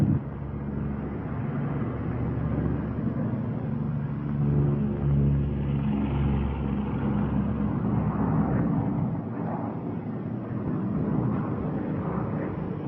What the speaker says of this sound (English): Hey, one engine's quit. You still got another engine.